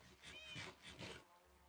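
A cat meows in Minecraft, a video game, giving two or three soft, close, rising-and-falling mews in quick succession over faint background hum.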